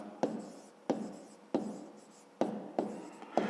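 A pen or pencil writes a maths answer by hand on paper, five distinct scratchy strokes spaced irregularly, each a sharp onset fading quickly, close and quiet with no talk.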